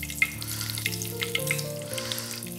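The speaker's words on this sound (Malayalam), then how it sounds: "എണ്ണ നന്നായിട്ട് ചൂടായി, കടുക് ഇടുമ്പോ തന്നെ പൊട്ടണം." Mustard seeds crackle and pop in hot smoking oil in a pan while cooking, a steady close sizzle with small scattered pops, alone without talk.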